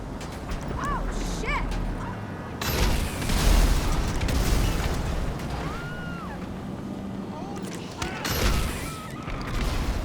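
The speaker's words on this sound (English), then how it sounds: "shoot homing rockets to blow up their cars and kill them that way" Homing rockets blowing up cars in the GTA Online video game, with two loud, sudden blasts a few seconds apart, each trailing into a rumbling roar over steady game noise, creaks and brief whistling tones.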